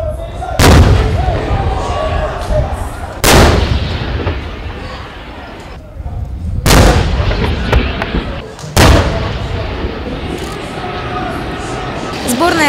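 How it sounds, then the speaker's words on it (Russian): Four huge tank cannon blasts at a tank biathlon in Alabino boom out a few seconds apart, each a sharp, loud thud that rumbles away. Crowd noise and chatter continue underneath. "где еще трибуны так сотрясаются от выстрелов"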